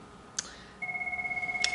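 An electronic telephone ringtone warbles in a steady pulsing trill after a short click, clear and fairly close in a quiet room.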